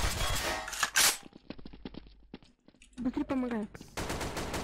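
Gunfire in the video game Garry's Mod, with rapid bursts of automatic shots crackling early on, then scattered single shots mixed with game sounds and someone speaking in between.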